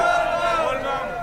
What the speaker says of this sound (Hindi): बम बम बोले के नारे भी आप सुन सकते हैं।